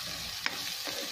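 Onion frying in oil in a pan for homemade chicken shawarma, a steady close hiss of sizzling with a single brief clink of a utensil midway, no voices.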